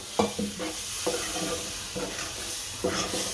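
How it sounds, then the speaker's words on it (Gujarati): Masala pasta being stirred in a pan as milk is added a little at a time, with a soft, steady sizzle and repeated scraping strokes of a spoon, close by. "થોડું થોડું દૂધ નાખશું, એકાદ બહુ ઝાઝું નહીં નાખી દેવાનું,"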